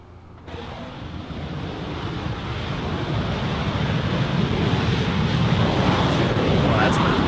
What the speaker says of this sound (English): Here's what our stage 1 full stack engine test looks like.